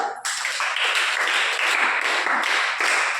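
A church congregation claps hands loudly together, a dense, rapid wall of sharp applause-like claps filling the space without pause.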